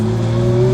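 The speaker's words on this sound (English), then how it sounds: "when you're driving, you can hear the turbo just spooling up" Porsche 935 turbo car under way with a steady droning engine tone and a rising turbo whine, loud and close, brief and continuous without talk.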